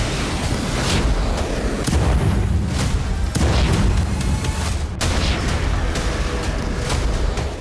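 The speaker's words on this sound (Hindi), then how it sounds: "लॉन्ग रेंज वाले ये रॉकेट इजरायल की सीमा में दाखिल हुए और समुद्र के किनारे धमाके शुरू" Long-range rockets explode near the seaside Haifa naval base in a string of loud booms and rumbling blasts, with one sharp, sudden crack partway through and continuous heavy noise throughout.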